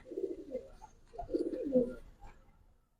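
Giribaz pigeons coo in low, throaty rolls, a few close calls in quick succession with no other sound around them.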